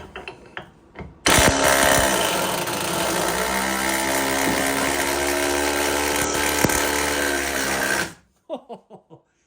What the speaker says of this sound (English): It drilled it all the way through.